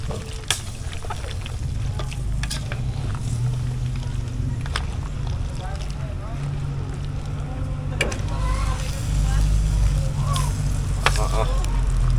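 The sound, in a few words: coconut milk being stirred in a frying pan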